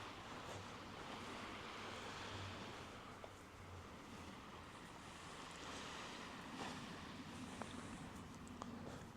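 Sea waves on a shore by an island, a faint continuous wash of surf with gentle surges and wind rustle, distant and steady with no other sounds standing out.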